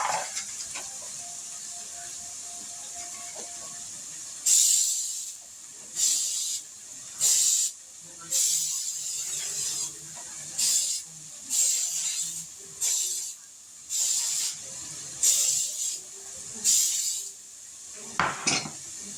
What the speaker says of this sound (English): I'm going to use Baker's Joy to spray this bundt pan with